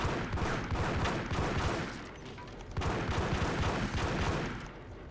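Rapid bursts of gunfire from the Max Payne video game, dense overlapping shots in two long volleys with a brief lull between, loud and close with no voices.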